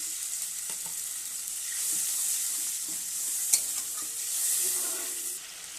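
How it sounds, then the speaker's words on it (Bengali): Spice paste fries in a pan with a soft, even sizzle, broken by a few light scrapes and one clear tap of a stirring spoon. "মশলাটা ভাজা হয়ে গেছে, অল্প একটু দিয়ে দিলাম।"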